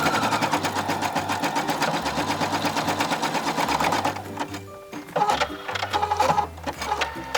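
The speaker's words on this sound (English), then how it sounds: "we're going to go over to the sewing machine and zigzag that down straight and flat" A sewing machine runs zigzag stitches over sweater fabric in steady rapid bursts, pausing briefly before starting up again in shorter runs, loud and close.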